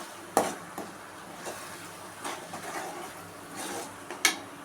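Okra and egg stir-fry gets stirred in a hot pan over high heat, with a few scattered spatula scrapes and clicks against the metal over a quiet, steady sizzle, close by and without talk.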